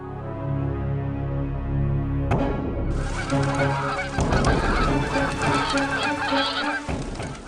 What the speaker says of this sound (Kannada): ಅಲ್ಲಿ ಕಾಣುತ್ತಿರುವ ಗುಹೆಯಿಂದ ನೀರು ಹಕ್ಕಿಗಳು ಹೊರಗೆ ಹಾರಿ ಬರುತ್ತಿವೆ